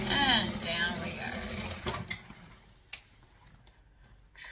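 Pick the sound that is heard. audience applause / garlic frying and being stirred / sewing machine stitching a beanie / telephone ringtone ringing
sewing machine stitching a beanie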